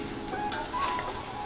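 Chicken with chopped potato, chili and onion frying in oil, a soft steady sizzle with faint stirring scrapes and a couple of light utensil clinks.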